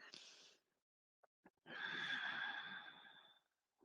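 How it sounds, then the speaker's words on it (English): Slow yoga ujjayi breathing with a slight throat restriction, a soft ocean-like rush of air; a brief exhale, a few faint clicks, then a long, steady, hissing breath near the microphone. "So that ocean sounding breath, imagining that your nostrils are there at your collarbones"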